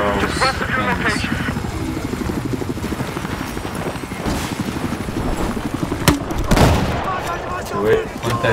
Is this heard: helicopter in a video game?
yes